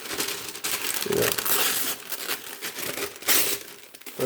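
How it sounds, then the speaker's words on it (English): Parchment paper crinkles and crumples as it is handled during burger prep in a home kitchen, close and loud with irregular crackling bursts throughout. "We'll prep some parchment paper."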